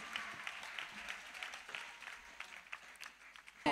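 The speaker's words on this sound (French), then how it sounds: "Clap for Jesus." A congregation claps for Jesus in a church service, a faint, steady wash of many hands clapping together that continues throughout.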